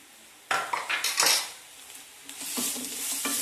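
Garlic paste and curry leaves sauté in a pan for a South Indian potato poriyal, with a spoon scraping and clinking against the metal in short bursts over a soft sizzle.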